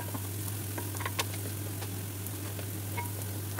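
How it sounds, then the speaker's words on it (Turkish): Green beans sautéing in hot oil with red pepper flakes and black pepper, a steady soft sizzle with scattered pops and light stirring ticks, no voices. "Kızdırılmış yağda güzelce kavurun."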